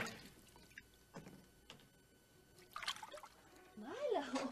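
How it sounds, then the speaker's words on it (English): Bathwater makes small drips and light splashes at scattered moments, soft and close, while people talk quietly over it. "Keep the splashing down."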